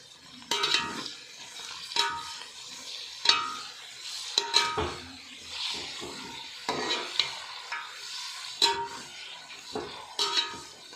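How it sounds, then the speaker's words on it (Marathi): Chopped tomatoes sizzle in a pan for chicken biryani while a metal spoon scrapes and clanks against it in a steady rhythm of strokes, close and clear with no talking. "तो 5 मिनिटे चांगला आपण टोमॅटो परतून घेऊ"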